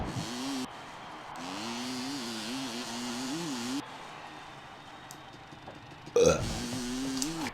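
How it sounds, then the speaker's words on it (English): A man burps loudly in a long, wavering, drawn-out belch under steady engine noise from an ATV racing game, then lets out a second, shorter burp near the end. "Again, I'm burping."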